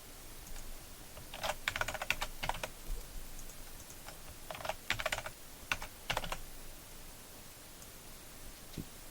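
Keys tapped on a computer keyboard while a password is typed during an Xubuntu installation, arriving in several quick bursts of clicks with short pauses between them, close and fairly quiet, with no voices.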